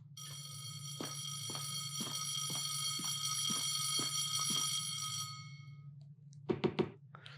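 Fire alarm in the LumineNight game rings as a steady electronic bell tone for about five seconds, marked by a run of regular, evenly spaced clicks. It then stops, and a few quick knocking thumps follow near the end.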